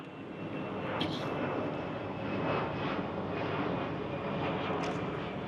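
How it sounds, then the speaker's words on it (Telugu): An airplane flies overhead in the Faroe Islands, a steady, distant engine drone that holds evenly throughout with no talking. "ఫ్లైట్ చూసారా?"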